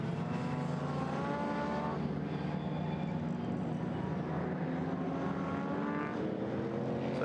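Classic pre-1966 GT race cars, including a Jaguar E-Type and a green AC Cobra, roar past on track, with several engines overlapping loudly and steadily throughout.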